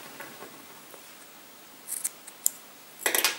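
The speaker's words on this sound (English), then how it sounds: "And then just cut your yarn" Scissors snip through crochet yarn in a few quick, close cuts, with a brief cluster near the middle and a louder flurry at the end, set against quiet background with no talking.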